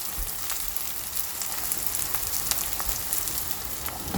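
Garlic and green chillies frying with onions in hot oil, a continuous bright crackling sizzle with fine random pops, close and steady throughout, with no talking.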